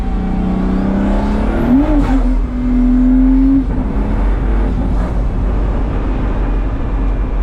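A Pagani Huayra BC accelerates hard in sport mode from inside the cabin. A loud engine tone climbs through a rising pull, breaks at a shift, then rises again before dropping into a rumbling roar with road noise.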